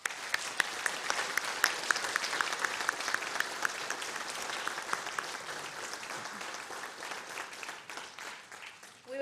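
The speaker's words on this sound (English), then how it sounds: "Please join me in thanking them with a round of applause." Sustained applause from families and guests at a 2022 National Honor Society induction ceremony, many hands clapping steadily at moderate distance before fading near the end.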